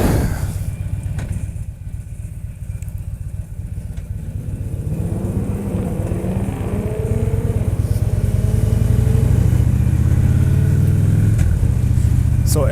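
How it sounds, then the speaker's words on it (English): City traffic on a Los Angeles street, a continuous engine rumble that builds steadily as vehicles pass and accelerate nearby, with a faint voice under it. "and then you guys will get to see more traffic."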